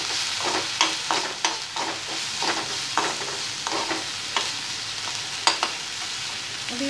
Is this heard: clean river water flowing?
no